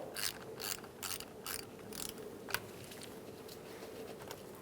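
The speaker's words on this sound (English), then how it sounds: "Using an 8mm socket or wrench, you're going to disconnect your negative battery terminal." An 8mm ratchet socket wrench clicks in rapid bursts while loosening the negative battery terminal under the hood of a 2000-2007 Ford Taurus 3.0L V6, close and fairly quiet with no talk.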